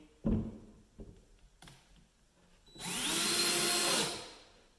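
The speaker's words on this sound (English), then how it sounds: "I'm going to use my electric screwdriver here" An electric screwdriver drives a screw, preceded by a few dull knocks and handling sounds, then a steady, close motor whine that runs for about two seconds before stopping.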